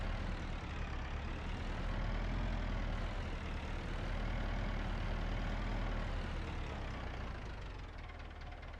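A tractor engine in Farming Simulator 25 drones steadily, a low heavy rumble holding constant for several seconds before easing slightly at the end, with no talk over it.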